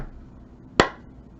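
A single sharp knock on a tarot card deck, a brief dry rap standing alone against quiet room tone.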